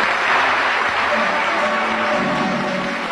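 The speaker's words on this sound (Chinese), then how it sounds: "暴风雨般的掌声响彻剧场" A theatre audience gives thunderous applause after a performance, a dense, continuous wash of many hands clapping at once, loud and sustained throughout.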